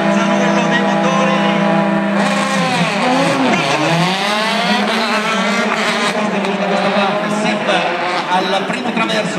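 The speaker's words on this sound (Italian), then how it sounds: "Alzano i motori." Rally cars at the Monza Rally Show rev their engines loudly, rising and falling pitch sweeping through the clip as they launch and drift, with an announcer talking over the roar.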